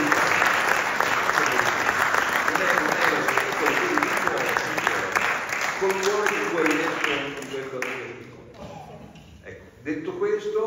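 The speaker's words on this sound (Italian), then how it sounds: "io credo che un altro applauso ci voglia" Audience applause at an Italian book presentation, a dense wash of clapping that holds for about eight seconds, then thins and fades while voices murmur through it.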